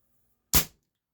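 A single sharp pop from a Barra 1858 Cowboy CO2 BB pistol firing a BB, a crisp close report with a brief fading tail, surrounded by near silence.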